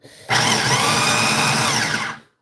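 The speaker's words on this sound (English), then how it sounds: "we're putting the onions that I just chopped into the food processor" A food processor minces freshly chopped onions for eggplant parmesan, its motor starting abruptly and whirring loud and steady for about two seconds before cutting off.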